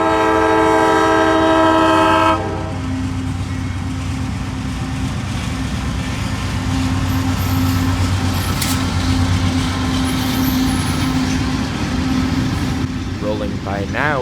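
Work train WO44 rolls past hauling a long string of maintenance-of-way equipment, opening with a loud sustained horn blast, then steady clattering wheels and rumble up close, with squealing flange screeches toward the end.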